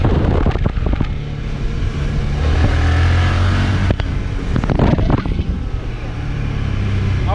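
A Voge 650 DSX motorcycle out on the road, its engine droning loudly with rising and falling throttle amid strong wind rush, and a few sharp knocks along the way.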